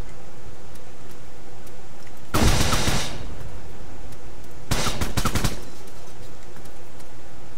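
Two loud bursts of automatic gunfire in the military shooter Arma, fired blindly at an unseen enemy, each volley lasting about a second with a gap between, over faint background ambience.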